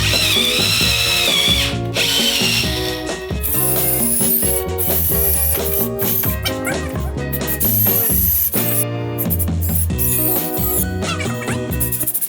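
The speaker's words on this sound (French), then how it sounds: "je perce quand même à pas mal d'endroits stratégiques dans le bois" A power drill with a large auger bit bores holes into timber framing for a garden shed, a loud, sustained mechanical whine with shifting tones as the bit cuts through the wood.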